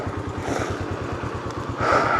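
Motorcycle engine running at the start of a ride toward Ganga Choti in Kashmir, a close, steady rhythmic thumping idle that grows slightly louder near the end.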